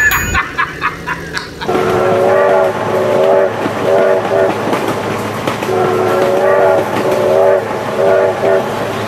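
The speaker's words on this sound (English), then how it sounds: "Oh my God, train!" A train rumbles past in a driving video game, with repeated horn blasts over a steady, loud roll of wheels and carriages after a sudden start, no talk over it.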